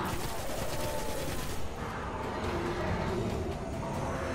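An auto rifle rattles off in Destiny, dense rapid fire in sustained bursts across the moment, moderately loud within busy game combat noise.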